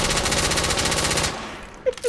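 Rapid automatic gunfire in a video game shooter, a fast even burst of shots for over a second, then stopping, followed by a couple of short sharp sounds.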